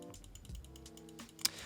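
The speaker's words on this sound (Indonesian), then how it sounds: "kalau misalkan gue kayak klik-klik mouse di sini" A computer mouse clicks a few times at close range, with one sharp louder click near the end, captured through a budget Soundtech USB microphone with noise reduction switched off; no voices.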